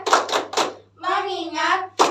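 Schoolchildren in a classroom doing the 'tepuk fokus' rhythmic clap: three sharp claps, a short chanted phrase from the group, then another clap.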